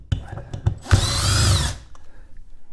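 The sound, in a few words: power drill backing out screws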